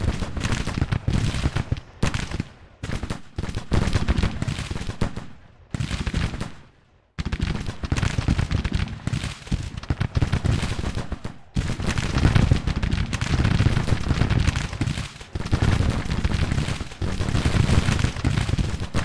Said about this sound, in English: Oh, my gun's firing.